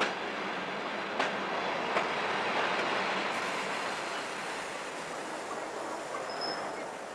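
A train rolls steadily along the rails, a broad continuous rumble with a couple of faint clicks from the wheels, fading slightly toward the end.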